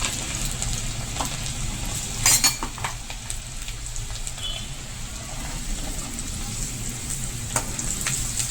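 Garlic pieces frying in hot oil with curry leaves for a green cowpea curry, a steady close sizzle with a few sharper crackles and faint utensil clinks, no talking.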